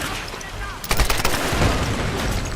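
Gunshots ring out in Tomb Raider, a burst of sharp cracks followed by a dense roar of continued firing, loud and close, with someone talking over it.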